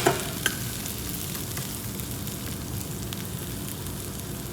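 Potato tacos fry in a pan with a steady, dense sizzle, broken by a couple of sharp clicks early on as they are stirred, close and continuous throughout.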